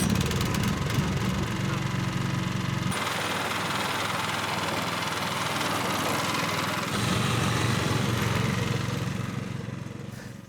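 Cobra Fortis scarifier mower with the grass collection box fitted runs steadily and loud throughout, its engine drone near and continuous, the tone shifting slightly as the load changes partway through.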